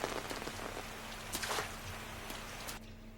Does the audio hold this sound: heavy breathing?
no